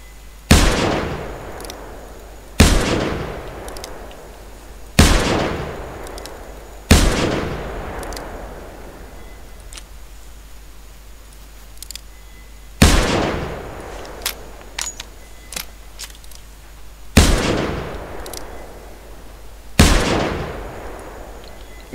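Seven loud, sharp weapon gunshots ring out in The Hunter Primal video game, each blast followed by a long decaying echo, spaced a few seconds apart with quiet gaps between.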